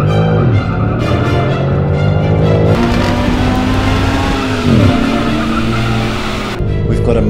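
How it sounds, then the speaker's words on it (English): A car launches hard from rest in automatic mode with traction control off and sport-plus engine and suspension settings, the engine note climbing loudly through several gear changes with tire noise, close and dominant. "So we have the traction control off, sports plus, engine mode, sports plus suspension,"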